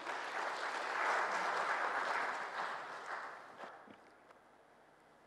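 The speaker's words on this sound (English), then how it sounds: "Please, a round of applause to him." An audience at an ambassadors' New Year celebration gives a sustained round of applause, swelling loud then tapering off into scattered claps and quiet room sound.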